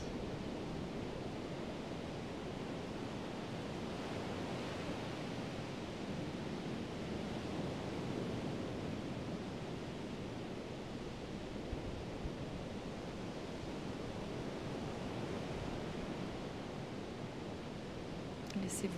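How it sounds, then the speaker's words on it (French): Ocean waves wash onto the shore in a soft, continuous broadband surge, a gentle rolling hush that swells and recedes faintly over about twenty seconds. "Laissez-vous bercer par le doux son des vagues."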